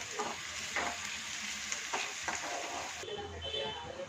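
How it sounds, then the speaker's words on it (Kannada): Onions fry in hot oil for chicken gojju, a close, quiet sizzle with a few soft scraping stirs. "ನಂತರ ಈರುಳ್ಳಿನ ಫ್ರೈ ಮಾಡಬೇಕು ಚೆನ್ನಾಗಿ."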